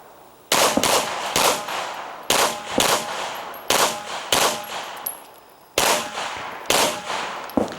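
Pistol shots at an IDPA match at Charlotte Rifle & Pistol Club, loud outdoor reports fired in quick double-tap pairs, several pairs in a row with short pauses between strings.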